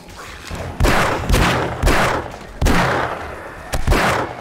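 Heavy shots from a loud gun in the zombie survival game 7 Days to Die during a horde night, five booming blasts spaced unevenly about a second apart, each with a rolling tail.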